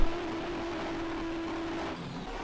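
A race car engine in a video game holds a steady high, strained whine for about two seconds, then drops off slightly, loud and continuous like a racing motor at full revs, at the 1995 Belgian Grand Prix.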